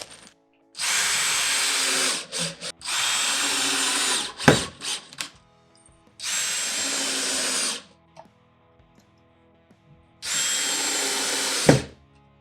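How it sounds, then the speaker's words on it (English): A cordless power drill drives screws into pocket holes on a wooden dining table, four distinct whirring bursts of a few seconds each separated by quiet pauses, close and clear with a few clicks and knocks between runs. "We're just going to run the screws down in and snug everything up, and the table will be ready."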